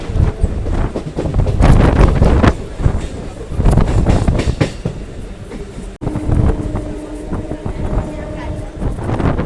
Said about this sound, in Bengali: আমাদের ট্রেনটা এখন পাস করছে উত্তরপাড়া স্টেশন